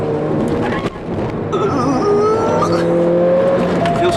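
A Mercedes A45 AMG or BMW M235i is driven hard on a track, its engine loud and close from inside with rising and falling revs through gear changes, and a faint tire squeal in the corners.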